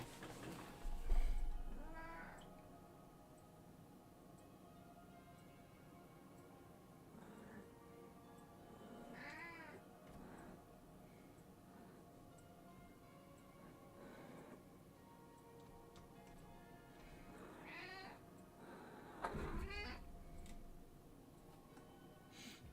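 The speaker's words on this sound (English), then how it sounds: "She meowed again." Beans, a pet cat, meows several times over a long stretch, faint high wavering cries spaced apart, with a couple of louder ones late, over a steady low room hum.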